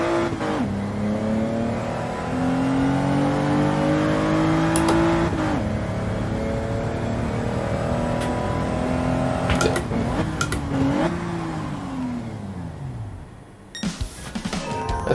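A Gran Turismo 7 race car in a video game, loud and close, its engine revving up and down through gear shifts and dropping pitch under braking, with a few sharp clicks and no talk.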